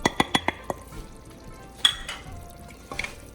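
A spoon scrapes and clinks against the metal of a pressure cooker while salt, turmeric, garam masala, cumin and red chili powder are mixed in: several quick sharp taps at the start, then soft stirring with one more clink, close and alone.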